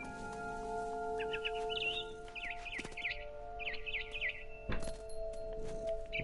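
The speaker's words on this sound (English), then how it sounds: "It was a barn swallow going back to her nest." Barn swallow chirps and twittering calls in the game What Remains of Edith Finch, short bursts of bright tweets repeating over a steady hum of background ambience, with no talk.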